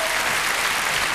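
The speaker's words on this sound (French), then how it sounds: "Applaudissez-les" Brief burst of dense, loud audience applause at a fan event, a continuous even roar of clapping with no gaps.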